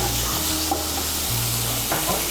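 Fried sola kochu (taro) is stirred into a sizzling spice paste with coconut pieces in a pan, a spoon scraping and turning the mixture over a continuous frying crackle, with no talking.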